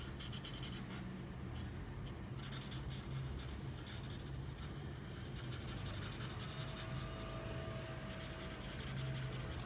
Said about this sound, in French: Avec le 7, on peut colorier aussi les parties de la capuche qu'on a laissées.